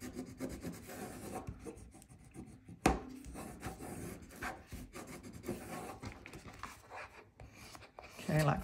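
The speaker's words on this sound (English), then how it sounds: "Fold it over and a good burnish." A paper fold over chipboard is burnished for a scrapbook envelope album, giving close, soft rubbing and scraping strokes with a sharp tap partway through, quiet and intermittent.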